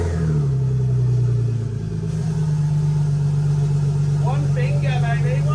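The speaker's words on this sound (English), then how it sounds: "We start the car up" A V6-powered Mini's engine fires and settles into a loud, steady idle with a low droning hum close by, while a voice talks faintly over it near the end.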